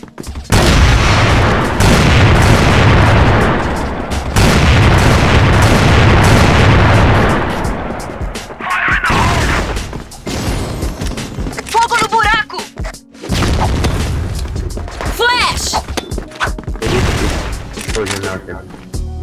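Grenade blasts and gunfire in the online shooter CrossFire during a ranked match, with loud dense bursts of shots and booms in the first half, then scattered shots and effects, under game announcer voices and player talk.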